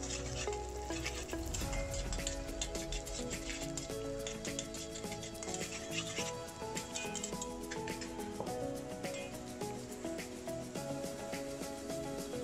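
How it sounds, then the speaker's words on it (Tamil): Onions sizzle and crackle steadily in a hot pan, close by, with occasional scraping from stirring and no talking. "இப்போது வெங்காயத்தை போட்டு வதக்குங்க"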